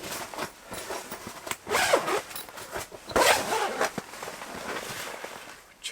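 The zipper on a heavy minus 45 sleeping bag is worked in several short and longer rasping pulls at close range, with pauses and rustling between strokes.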